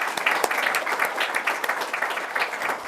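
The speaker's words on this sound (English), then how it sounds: "Let's just give a round of applause for all the women who have gone through or will go through this program." An audience gives a round of applause honouring women in a program, dense continuous clapping from many hands, steady and fairly close throughout.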